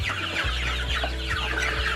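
Chickens clucking on an Indonesian poultry farm, a close, busy chorus of overlapping clucks and chatter over a steady low mechanical hum.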